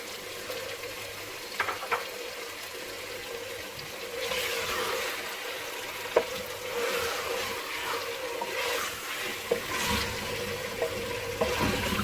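Chicken masala fries in desi ghee in a handi pot, a steady close sizzle and bubbling broken by occasional sharp spoon knocks and scrapes as it is stirred.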